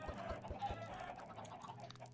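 Chickens in the Minecraft video game cluck in quick repeated bursts, a rhythmic string of short game-sound clucks over a low background, with no talk.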